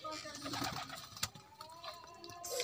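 Soft pigeon coos come and go close by amid faint rustling and a few light taps, with a voice murmuring in the background.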